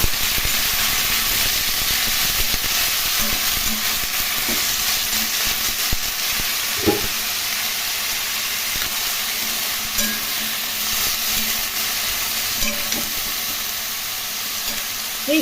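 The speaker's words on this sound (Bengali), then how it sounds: "ভেজে নিয়ে এর মধ্যে সবজিগুলো দিয়ে দিলাম।" Mixed vegetables (potato, eggplant, long beans, pointed gourd) frying in hot oil with dried chili and five-spice in a kadai, a constant loud sizzle and hiss with occasional scraping stirs and soft clinks, no talking.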